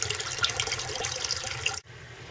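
Fresh rainwater pours and splashes into a small fish pond while it is aerated, a dense continuous rushing and bubbling that suddenly cuts out near the end, leaving a quieter trickle.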